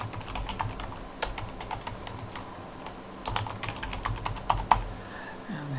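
Typing a password on a computer keyboard while setting up a cloud virtual machine, a quick run of close, crisp key clicks in uneven bursts with brief pauses.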